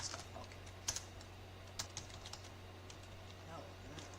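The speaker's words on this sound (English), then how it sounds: "I'm just typing stuff" Sparse, quiet keystrokes on a computer keyboard tap out a few irregular clicks over a steady low electrical hum, close but faint.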